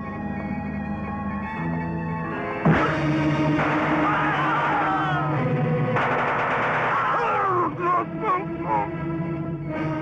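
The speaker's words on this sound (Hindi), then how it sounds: "इस तोप का स्विच दबाने का मुबारक काम मैं अपने हाथ से करूं।" A cannon fires in a 1985 Hindi action film after its switch is pressed: a sudden loud blast followed by rapid repeated booming shots with whistling and echoing tones, over a music score.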